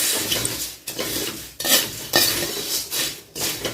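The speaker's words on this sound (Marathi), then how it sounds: "आता त्याच्यात फरसाणा जरा शेव मिक्स करायचं" A spoon clatters and scrapes in a pan as farsan and sev are stirred into chivda, with loud, continuous tossing broken by brief pauses.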